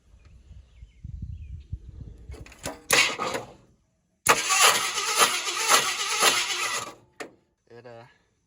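A 1976 Ford F-250 farm truck engine cranks over in two bursts of rhythmic starter churning without catching, broken by a short silence, with a few words spoken nearby.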